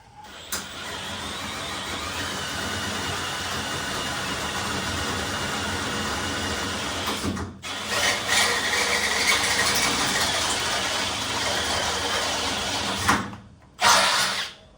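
A DeWalt step drill bit bores through material in one long continuous whine under load, briefly stopping around the midpoint and again near the end.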